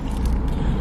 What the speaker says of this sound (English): the car make a lot of noise